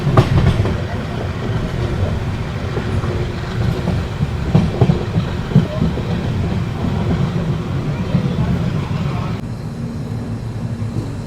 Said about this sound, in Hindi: डीजल लोकोमोटिव की चगिंग आ रही है तगड़ी